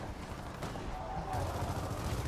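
Sustained automatic gunfire and weapon noise from a Gears of War 4 campaign firefight on Insane difficulty, a dense continuous barrage with no clear gaps.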